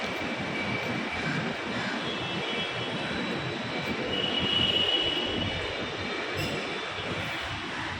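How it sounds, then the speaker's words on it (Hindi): A Mumbai metro train rumbles steadily with a high metallic whine, swelling slightly midway as it pulls into the platform, no voices. "अब आएगी मेट्रो, फिर उसमें जाएंगे अंदर।"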